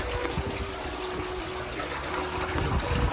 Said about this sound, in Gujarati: પાણી શરૂ થઈ ગયું છે